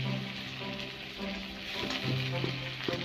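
Ginger paste frying in a pan, a dense close sizzle like rain on a surface, with a few soft stirring knocks near the end and no voices.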